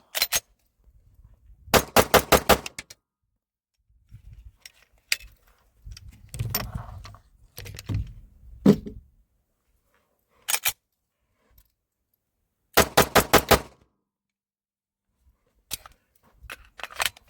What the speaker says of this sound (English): Here's a little 5-round mag dump.